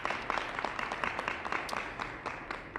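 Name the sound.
audience applause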